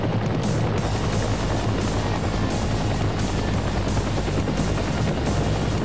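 A helicopter's steady, loud rotor roar in a video game fills the whole stretch, continuous and close, with no voices over it.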